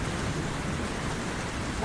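Heavy rain pouring down in a dense, constant roaring hiss, loud and unbroken with no other sounds.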